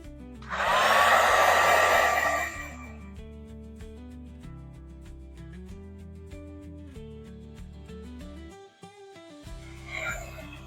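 A two-speed heat embossing gun blasts hot air in a loud, steady whoosh for under two seconds, then cuts off, leaving quiet background music.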